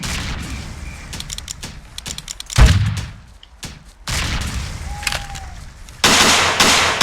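Bursts of rifle fire crack out in Ghost Recon Navy SEALs during a squad training drill, with irregular single shots and short volleys, one loud close blast, then a sustained heavy stretch of firing at the end.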